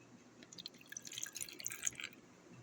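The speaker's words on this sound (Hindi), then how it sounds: "दूध डाल दिया।" Milk poured into a bowl for chicken bread dough, a faint, soft trickling and dripping splash lasting a couple of seconds, close and quiet.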